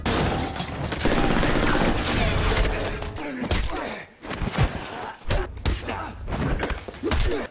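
Gunfire and fighting in an action film about an assassin: dense bursts of shots, slams and heavy thuds crowd the whole stretch, loud and busy, with a brief lull before the impacts resume.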